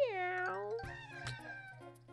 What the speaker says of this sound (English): Meow. Cat Goomba.